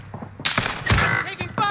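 Gunfire in a first-person video game shooter, a burst of sharp shots and impacts spread over about a second, loud and close, with game voice lines and chatter around it.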